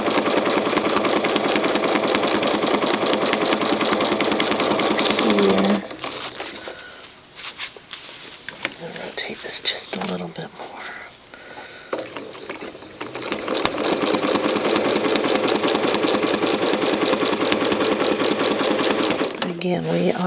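A sewing machine stitches a quilt in a grid-based continuous-curve design, running steadily and loud, pausing partway with quieter handling noises and low speech, then resuming its rapid stitching.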